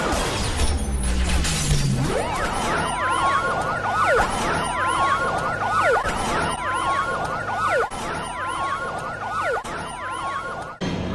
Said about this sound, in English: Just follow the sirens.